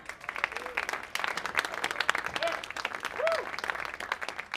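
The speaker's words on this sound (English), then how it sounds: "give a big round of applause for Haley and Nick from the Jezabels" An audience applauds and cheers to welcome Haley and Nick of the Jezabels at an interview event in New York. Dense clapping runs throughout, and several sharp whistles rise above it.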